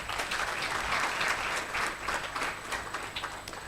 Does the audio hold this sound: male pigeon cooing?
no